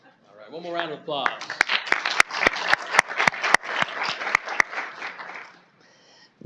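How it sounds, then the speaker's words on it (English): Audience applause at a city council meeting, a swell of mid-level clapping from the room with a few sharp close claps, bracketed by brief voices at the start and end. "One more round of applause."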